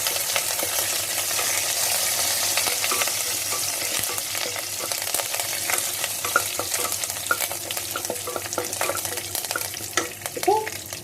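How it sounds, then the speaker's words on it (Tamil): Whole spices such as star anise, cloves, cinnamon and curry leaves frying in hot oil for vegetable kurma, a steady close sizzle with scattered crackles and pops, no talking. "இதெல்லாம் நல்லா ஃப்ரை பண்ணிக்கலாம்."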